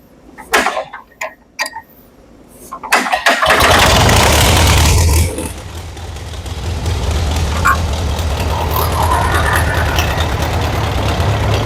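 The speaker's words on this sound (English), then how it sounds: "Now let's try to get this sucker cranked up." Military Wisconsin MVG4D air-cooled engine cranks over in several short bursts, then catches and roars to life, settling into a loud, steady, rough idle up close with no talking.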